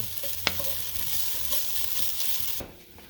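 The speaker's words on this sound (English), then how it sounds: "so 6 cloves of garlic. Stir that up. Let that cook for a couple minutes" Six garlic cloves sizzle in a hot pan while being stirred, a loud continuous frying hiss with a sharp utensil tap near the start and the sizzle dropping away at the end.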